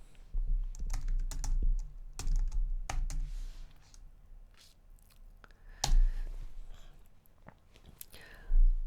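Soft, irregular clicks and taps from a computer keyboard, close by, in short bursts with brief pauses between.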